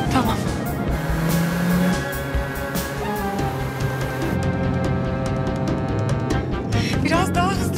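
A car drives along at a steady pace, its engine a low hum beneath loud music that runs throughout.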